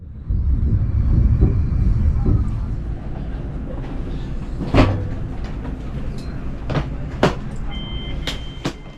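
A train pulls into Paris Gare du Nord at the end of a non-stop run, with a low rumble of rolling cars, brake squeals and sharp clanks and knocks from the carriages, all without talk.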